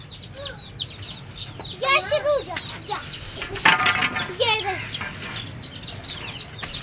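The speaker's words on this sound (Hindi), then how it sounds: "ये हमारे इतने प्यारे प्यारे चूजे हैं।" A mother hen with chicks hatched in an incubator gives soft clucks among the chicks' high, rapid peeping, heard close and ongoing, while a person talks over them.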